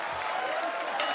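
An audience breaks into loud, dense applause, a steady wash of clapping that lasts the whole short moment.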